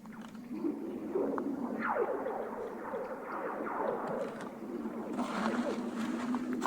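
Ice on a frozen lake thawing gives off eerie sweeping, twanging whistles and groans that glide down in pitch, repeating over a low steady rumble, fairly close and with no voices.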